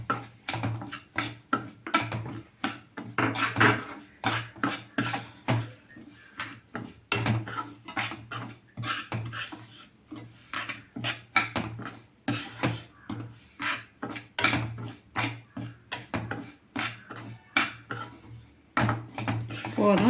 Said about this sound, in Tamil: ரவையும் இந்த நெய்யிலே போட்டு வறுத்து வச்சுக்கணும்.